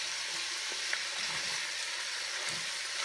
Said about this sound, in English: you just want to break all this meat out into the little bit of pieces and brown it in a pan